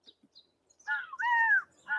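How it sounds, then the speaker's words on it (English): Blackbirds near a cornfield give harsh, drawn-out calls, two or three close loud squawks following a few faint chirps, with no talking. "Big flocks of blackbirds want to eat the corn."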